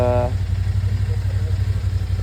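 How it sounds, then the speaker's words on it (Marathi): A motorcycle engine idles close up with a steady low rumble throughout, preceded by a brief tonal blip at the start; the bike is one of a group setting out on a ride to Bhimashankar. "बाईक गाडी चालू करतो आहे"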